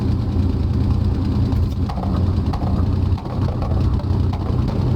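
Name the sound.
BF-109G engine coughing and spluttering, from flight simulator game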